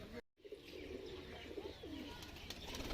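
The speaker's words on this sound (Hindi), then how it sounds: "बहुत ही नायाब किस्म की ये कबूतरी है" Soft, low coos from a prized female pigeon repeat a few times at close range over a quiet background with faint rustling, in a village in R.S. Pura.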